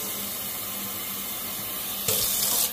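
A tap suddenly turns on near the end, running lukewarm water into a sink for washing makeup brushes, a brief close hiss of flowing water after a quiet stretch.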